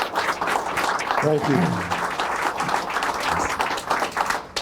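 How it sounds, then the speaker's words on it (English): An audience applauds a guest being introduced: steady dense clapping throughout, with a voice speaking briefly over it. "Give him a round of applause, everybody."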